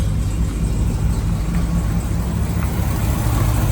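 A 1972 GMC C1500 pickup, converted to HEI ignition, runs with a steady, close, low engine drone and an even idle rumble that holds throughout.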